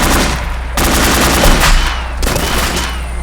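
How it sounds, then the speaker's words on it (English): Attacking helicopter in ArmA 2's Namalsk Crisis mod, with loud bursts of automatic gunfire in rapid sequence, sharp breaks between volleys, close and aggressive. "How the hell do you not get killed by these choppers?"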